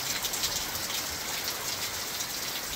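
Steady, heavy rain pouring down outdoors around a home workshop area where tools and a compressor sit exposed, a dense, even hiss without pauses and no voices.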